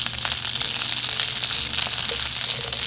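Asparagus simmering and frying in hot fat and oil in a pan: a steady, dense sizzle and crackle, close and loud, holding evenly throughout with no talking.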